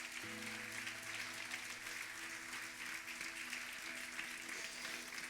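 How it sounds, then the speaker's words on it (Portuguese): A church congregation applauds faintly and steadily throughout, under sustained organ or keyboard chords from the worship band. "aplauda Ele bem forte nesta manhã"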